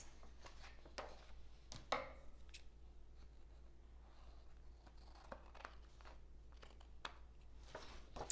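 Scissors snip through excess sticker paper on a vertical planner page, a few sharp isolated cuts spaced over several seconds, close and fairly quiet in a still room.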